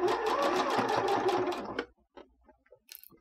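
A sewing machine stitches a fabric face mask, a loud close-up rapid whir of needle strokes for nearly two seconds before stopping abruptly, followed by faint ticks and small handling clicks.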